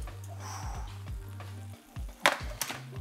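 Buffalo wings frying in hot oil sizzle softly while a low electric hum runs underneath, and a sharp clatter and a few taps sound as the wings are flipped over.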